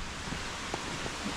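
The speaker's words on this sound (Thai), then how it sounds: "น้ำตกแน่เลย" A waterfall on a mountain trail up Khao Khitchakut gives a soft, steady, hissing rush with no breaks.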